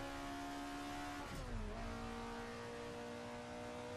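An Alfa Romeo 33 Stradale engine in the video game Assetto Corsa holds a steady high-pitched drone, with one quick dip and rise in revs near the middle, loud and close, no voices.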